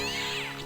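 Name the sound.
cat meowing in a video game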